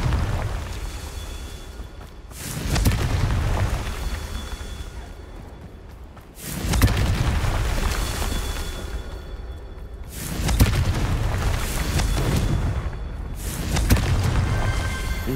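Confringo fire spell explosions in the video game Hogwarts Legacy, heard as loud, rumbling blasts that recur about every four seconds, each swelling and then fading into a constant roar with no speech.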